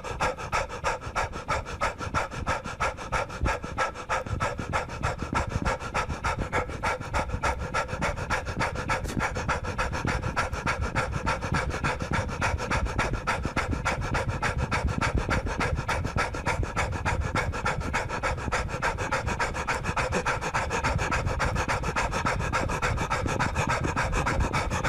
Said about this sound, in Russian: Первое, что я начинаю делать, это быстро дышать.